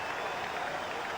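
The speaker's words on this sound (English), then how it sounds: "get the response from the home crowd" Home crowd at a 1983 Patriots at Jets football game cheering and applauding, a dense, loud, continuous roar of clapping over a brief moment.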